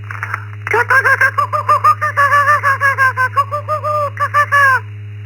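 A person imitates a kookaburra call, a rapid run of rhythmic, laughing hoots that rises and falls for about four seconds over a steady low hum.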